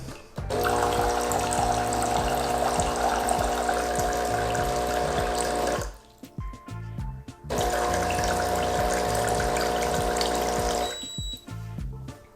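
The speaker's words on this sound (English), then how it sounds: "we've got a new basket of water that we're using to rinse out all these lines" A loud, steady espresso machine pump hum with rushing water through the hot water line during a rinse cycle runs for several seconds, pauses briefly amid clicks, then resumes before stopping.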